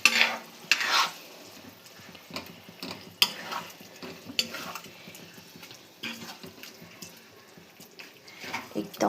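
Food cooking in a pan with a little water added, stirred with a utensil in repeated scraping strokes over a soft simmering sizzle, with occasional louder clinks and scrapes close by.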